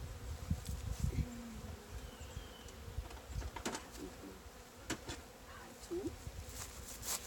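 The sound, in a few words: honey bees buzzing around hive during inspection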